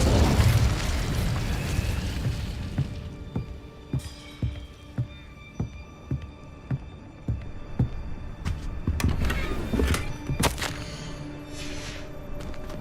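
An explosive Confringo spell in the Hogwarts Legacy video game bursts with a heavy boom, followed by a run of rhythmic thuds and later sharp crackling impacts, all fairly close with no talking.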